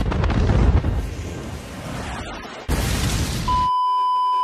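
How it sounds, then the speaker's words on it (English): An exaggerated sneeze sound effect: a loud, booming blast like an explosion rumbles and decays, cuts off abruptly, then another burst ends in a sustained electronic beep tone. "If Tiffany were to sneeze, I imagine it would sound something like this"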